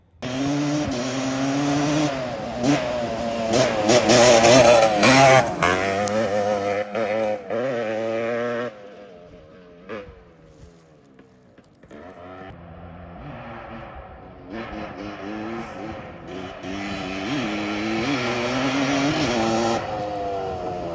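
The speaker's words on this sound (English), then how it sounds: "I can see why this thing is the holy grail of three-wheelers. It sounds so damn good." A three-wheeler ATC engine revs hard nearby, pitch climbing and falling through repeated throttle blips, dropping to a quieter idle midway before revving up strongly again.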